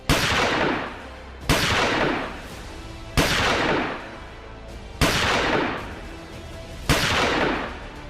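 Five loud gunshots ring out at even intervals, each with a long echoing decay, in news footage of a shooting at a Washington hotel during the White House Correspondents' Dinner.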